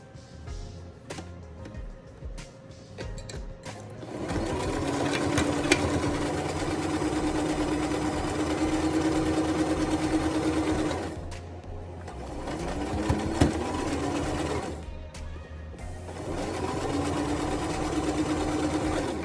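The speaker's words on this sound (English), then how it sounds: "I sew about 1/4 inch all the way on the top." Sewing machine stitching fabric for a homemade nose-wire face mask, whirring steadily in two long runs with a short pause and clicks between, close and fairly quiet.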